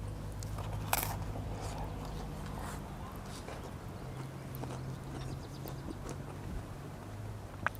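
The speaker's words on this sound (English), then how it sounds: "I don't know if you can hear the crunch." A crunchy bite into a pizza cooked on a Cobb cooker, eaten outdoors while fishing, giving a short, sharp crackle near the mic over a low steady background hum, with a few faint chewing clicks after.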